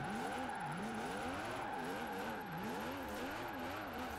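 A 3.8-litre car engine in Forza Horizon 4 revs up and down repeatedly in a wavering, rising-and-falling whine, steady and continuous with no talking.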